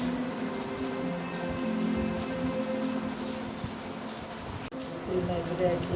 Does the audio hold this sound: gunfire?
no